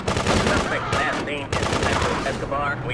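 Rapid automatic gunfire from shooting in the top-down video game GTA 2 rattles in dense, loud bursts, with only a brief break in the middle.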